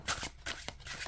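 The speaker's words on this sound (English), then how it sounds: "so let's give this deck a shuffle and see how it shuffles." Tarot cards riffle and slap in quick rhythmic bursts of shuffling, close and fairly quiet.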